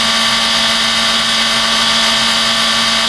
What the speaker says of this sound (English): So I like to use the wire mesh to sand with.